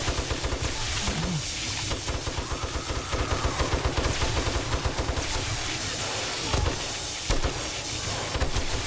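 Dense, sustained gunfire in the zombie survival game 7 Days to Die: rapid automatic bursts and overlapping shots firing continuously at close range, loud throughout with no pauses and no voices.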